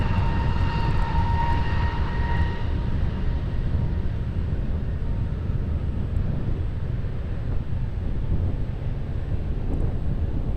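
A plane takes off from runway 20 at Lisbon Airport, its engine roaring as a broad continuous rumble that starts with a whining tone and stays loud and steady, with wind buffeting the microphone.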